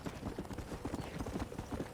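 Steady, rhythmic hoofbeats of a horse trotting in the video game Red Dead Redemption, a brisk clip-clop pattern heard up close.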